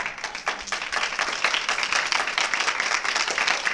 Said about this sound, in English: Everybody wants to give you another big round of applause